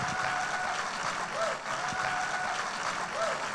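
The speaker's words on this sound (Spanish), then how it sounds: "Yo pensé que ese aplauso iba a estar más fuerte." Church audience applause during a sermon: a continuous, moderate wash of clapping with no break, joined by a few faint voices.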